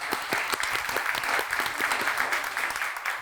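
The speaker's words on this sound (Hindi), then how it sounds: "इस बात के लिए जोरदार तालियां दोस्तों" A studio audience claps in a dense burst of applause that holds steady and then fades slightly at the end.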